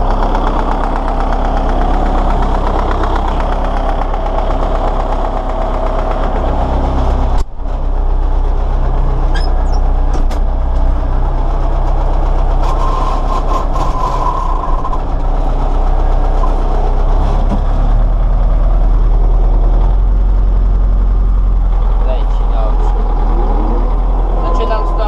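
An MTZ 82 tractor engine drones loudly and steadily for the whole stretch, spreading NPK fertilizer in hard field conditions, with a deep constant rumble and a brief dip in sound partway through.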